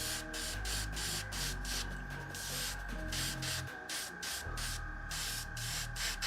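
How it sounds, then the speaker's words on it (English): Airbrush loaded with dark plum paint spraying over a black undercoat on a Tyranid Hive Fleet Leviathan Screamer-Killer miniature, a steady close hiss that pulses on and off in short bursts over a constant low hum. "I have dark plum in the airbrush"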